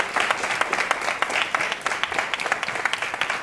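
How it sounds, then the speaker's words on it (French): An audience applauds after a televised debate match, producing a dense, continuous wash of clapping from a moderate-sized crowd at steady loudness throughout. "On peut les applaudir."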